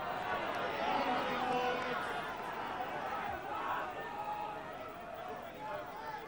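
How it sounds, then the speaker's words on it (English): A large crowd at a 1989–90 Gloucestershire rugby match roars and murmurs continuously, a broad, distant wash of massed voices that swells and eases slightly, with no single voice standing out. "What a crowd noise. Make the signals sometimes difficult to hear."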